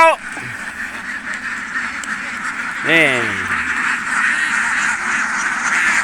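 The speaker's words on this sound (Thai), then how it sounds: "นี่คือเป็ดนะครับ" Ducks quack beside a roadside stream, with a few loud, close calls rising above steady outdoor background noise while someone speaks.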